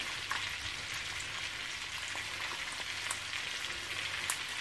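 Onions sweat down in a pan with a steady, soft sizzle and a few faint crackles and pops, close and continuous without any voices.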